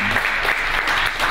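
An audience claps for a performer at a TEDx salon event. The applause is dense and continuous across the short span, with no voices over it.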